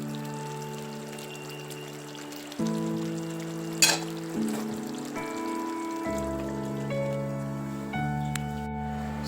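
Mackerel fish sauce simmering in a pan gives a soft, steady bubbling sizzle, largely buried beneath louder tonal background music that changes pitch in steps throughout.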